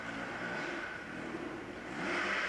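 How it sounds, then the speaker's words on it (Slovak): An enduro motorcycle engine revs at a 1994 ride near Košice, a faint, rough mid-pitched drone that swells toward the end, heard from a distance. "No jak to zdre motor teraz?"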